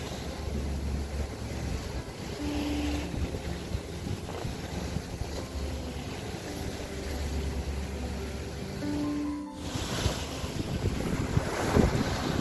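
A ship's low engine rumble drones on at sea in the UAE with a trailer loaded aboard, gusting wind buffeting the microphone and water washing nearby, broken by one brief dull thump.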